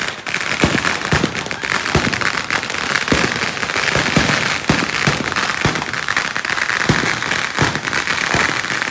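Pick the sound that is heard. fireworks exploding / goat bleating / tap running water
fireworks exploding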